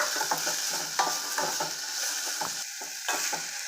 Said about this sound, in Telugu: వెజిటేబుల్స్ అన్నీ వేసేసుకొని చక్కగా ఫ్రై చేసుకుందాం హైలోనే పెట్టి ఫ్రై చేసుకోవాలి